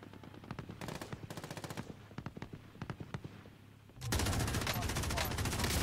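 Rapid automatic gunfire from the video game Call of Duty, bursts of shots rattling in quick succession and then merging into a loud, dense continuous barrage.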